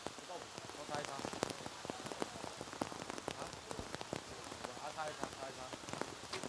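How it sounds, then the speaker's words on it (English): Steady rain patters densely on surfaces outdoors at a compound women's team archery World Cup final in Shanghai, a continuous crackling shower of close drops, with faint background voices beneath. "Jamie Van Natta trying to block out all of that rain"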